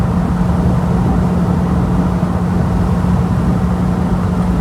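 A V8 car engine cruising steadily at 70 mph on roads into the Derbyshire Peak District, a continuous loud low drone with a steady hum and road rumble, no voices.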